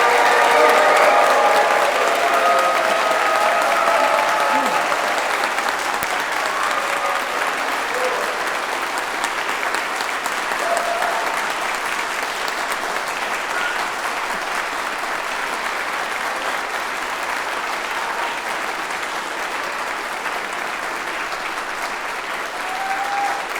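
A big audience applauds graduates in a long, steady ovation of loud, dense clapping that holds at an even level from start to finish, with faint voices and cheers mixed in.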